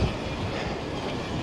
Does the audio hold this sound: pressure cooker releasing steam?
no